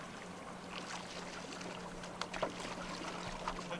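A paddle dips and strokes through calm water beside a paddleboard, soft swishes and a couple of light splashes over a steady low background hum, with no talking.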